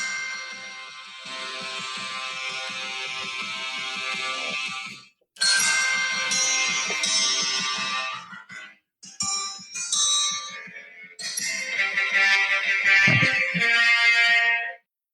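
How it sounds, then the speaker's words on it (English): A Star Wars phone ringtone plays loudly and alone in several bursts of bright, sustained electronic tones separated by short gaps, with no one speaking over it. "I'm just going to play my ringtone, and you won't get it because you're not a Star Wars person"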